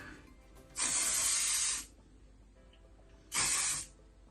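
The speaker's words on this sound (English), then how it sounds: "And then get some more hairspray." Hairspray is sprayed onto hair in two steady bursts, the first about a second long and the second shorter, close and clear with a quiet pause between.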